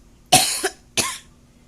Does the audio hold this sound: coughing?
yes